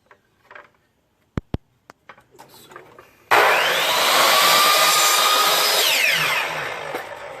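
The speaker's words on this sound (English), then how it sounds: "Just cutting your trim for the baseboards." Power saw making a straight cut across wooden baseboard trim during a laundry room renovation, a loud sustained whine running about four seconds after a few sharp knocks.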